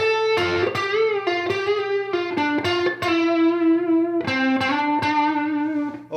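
A blues guitar lick drawn from the Dorian mode and the blues scale, played slowly on an electric guitar with light overdrive, as distinct picked notes, slides and bends ringing out close by with no voices.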